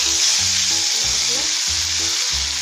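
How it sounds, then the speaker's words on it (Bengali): Bay leaves and cloves sizzle steadily in hot oil for a mustard katla fish curry, with a dense, continuous frying hiss and low rhythmic stirring thumps underneath, close and fairly loud, with no talk. "তেজপাতা, লবঙ্গ দিয়ে দিলাম। দিয়ে একটু নাড়াচাড়া করে"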